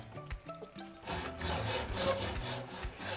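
Hacksaw cutting through a Transition Patrol mountain bike frame, quiet scattered scrapes at first, then steady back-and-forth rasping strokes in a close, even rhythm; no talking.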